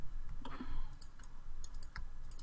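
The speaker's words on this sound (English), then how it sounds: "I'm then going to double click this loop" Mouse clicks during 3D character modeling: a few quiet, sharp clicks, including a quick double click, scattered over faint room noise.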